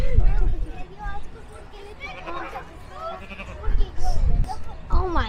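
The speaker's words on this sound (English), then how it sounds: "And then there's a little goat." A little goat bleats at a farm animal exhibit during the Waynoka, Oklahoma Rattlesnake Hunt, with several wavering cries close by among people talking.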